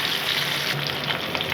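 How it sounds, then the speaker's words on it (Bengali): Hilsa fish frying gently in hot oil gives a steady, close crackling sizzle throughout, with faint pops and spits and no talking. "আমি আস্তে আস্তে মাছগুলোকে খুব হালকা হাতে ভাজবো"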